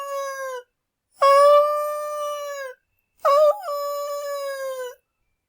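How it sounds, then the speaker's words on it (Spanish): Three long, tonal wolf-like howls ring out clearly and alone, each rising then holding steady with short silent gaps between, matching a girl screaming and howling like a wolf. "Al poco rato se puso a gritar y a aullar otra vez."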